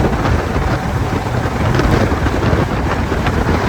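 An Ola S1X electric scooter ridden at full throttle near 110 km/h, heard as a steady, loud roar of wind buffeting the microphone with rushing road noise throughout, no voice.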